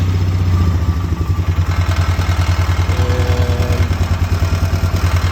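Polaris 500 engine idling roughly, a loud, close, steady low chugging with a regular pulsing beat and some mechanical clatter, no talk.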